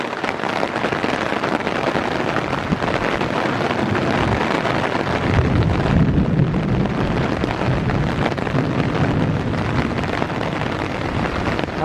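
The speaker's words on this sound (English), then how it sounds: "The wind is blowing the rain on me." Wind-driven heavy rain in a thunderstorm at Iroquois Park, a continuous loud rushing roar with strong wind buffeting on the microphone and a deeper surge near the middle, with no voice heard.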